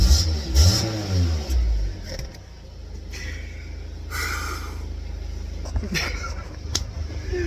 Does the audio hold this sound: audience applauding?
no